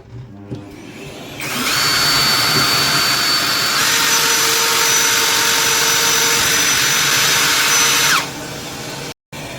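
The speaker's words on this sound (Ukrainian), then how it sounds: "зараз будемо його сверлити. Спочатку тонким сверлом, включай пилосос." A power drill with a thin bit whines steadily at close range while a vacuum cleaner roars alongside, both running continuously for several seconds before cutting off, while mounting a monitor bracket.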